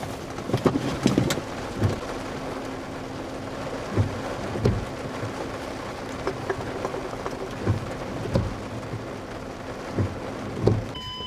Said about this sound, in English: This is just a thunderstorm